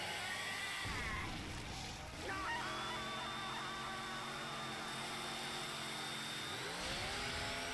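A chainsaw revving in the Chainsaw Man anime, a sustained buzzing drone that surges higher midway and again near the end, fairly faint, with no clear speech.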